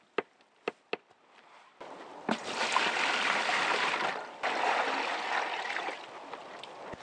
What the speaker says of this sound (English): So now we fill it up with water